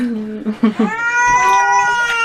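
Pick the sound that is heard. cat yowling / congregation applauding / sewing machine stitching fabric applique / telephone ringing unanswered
cat yowling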